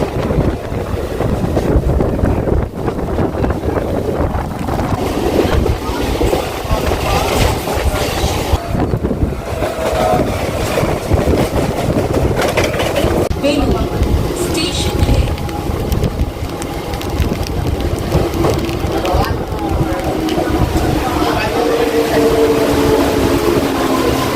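Heavy rumble and wind roar as the Malda–Howrah Intercity Express rolls past near Liluah, a continuous close, loud clatter lasting throughout with buffeting wind noise on the microphone.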